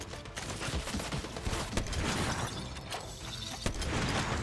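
Grenades fired in Fortnite: a dense burst of gunfire-like cracks and clattering impacts with sharp transient bangs scattered over a rumbling, busy background, fairly loud.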